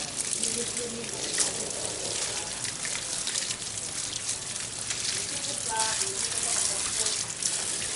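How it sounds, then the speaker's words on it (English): Warm water pouring over a bonsai plant, a steady splashing gush like heavy rain, continuous and close throughout, with a voice talking faintly underneath. "That is warm water. It feels good, but that's good for the plant."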